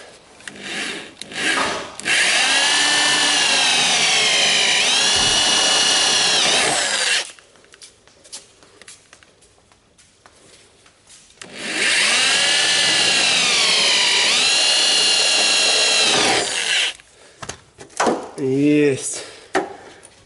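Two long bursts of a loud, whining power drill boring through car body metal on a BMW, separated by a quiet pause with faint handling noises, then clattering at the end.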